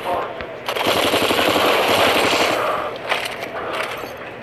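Rapid automatic gunfire in a shooter video game, a dense continuous burst of machine-gun shots lasting several seconds, loud and close, with brief pauses and scattered single shots near the end, heard alone without talking.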